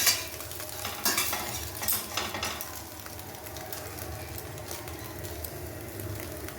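Egg being fried and stirred in a pan for mixed fried rice, a soft sizzle under scraping of a utensil against the pan, with a few sharper clinks early on, steady and close with no talk.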